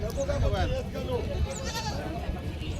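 Goats bleat at a busy village goat market, short wavering calls rising over a crowded murmur of voices and general noise.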